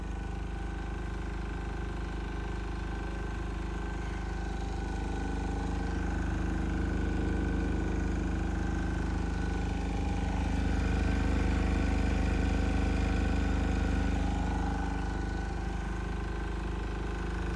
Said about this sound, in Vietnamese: Máy nổ rất là êm, không một chút khói nào cả.